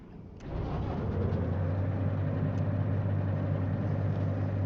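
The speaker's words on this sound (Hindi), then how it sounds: "अब इस लोकोमोटिव को हम लोग स्टार्ट करते हैं। यह स्टार्टर," DM3 diesel locomotive in the Derail Valley railway game cranking and catching, a sudden rise into a steady, loud low idle rumble that holds evenly to the end, with no talk.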